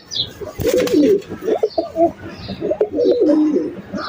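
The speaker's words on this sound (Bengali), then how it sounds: "এই হচ্ছে আমার লক্ষা কবুতর।" A pet pigeon of a new king pigeon breed coos close by, with repeated rolling low calls, loud and steady over a few seconds and no talk.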